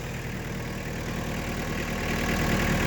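Tractor engine running while hooked to a New Holland 271 baler, a close, steady mid-pitched chug that grows slightly louder toward the end, with no talk.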